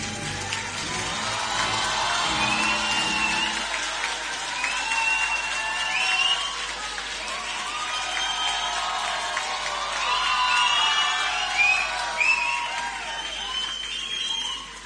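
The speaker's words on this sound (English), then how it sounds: "Now the audience may applaud." A large convocation audience applauds continuously at a college graduation ceremony, with dense, sustained clapping and scattered cheers filling the hall throughout.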